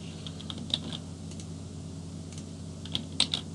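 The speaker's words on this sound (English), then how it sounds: "And then on my keyboard, I'm hitting." Light typing on a computer keyboard during a spreadsheet lesson, a few scattered soft key clicks in a quiet room with a steady low hum beneath.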